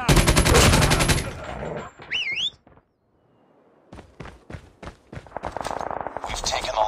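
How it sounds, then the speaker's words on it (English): A deployed sentry gun fires during a Frontline match in Call of Duty Mobile, sounding as loud rapid automatic bursts with electronic game tones, a brief quiet gap of scattered shots, then another dense burst of gunfire. "Sentry gun deployed."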